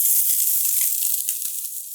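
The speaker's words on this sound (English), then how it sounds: "Should hear a little sizzle." Food sautés in a pan with a soft, continuous high hiss of sizzling, steady and close, with faint small crackles and no talk.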